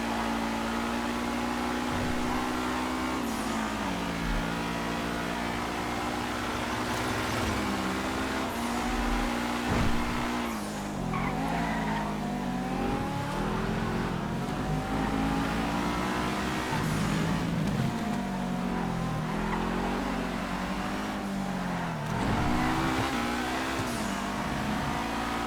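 A Monroe Custom sports car's engine in the video game GTA V drones steadily, revving up and down repeatedly through gear changes as it drives, loud and continuous with no talk.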